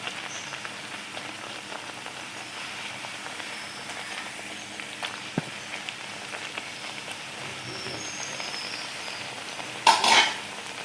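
Pepper vadas frying in hot oil, a faint steady crackle and sizzle with a brief clatter of utensils near the end.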